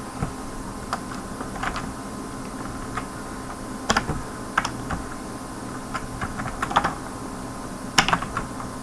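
Quick bursts of clicky keystrokes on a computer keyboard while C program code is typed, close and crisp with short pauses between runs, no talking.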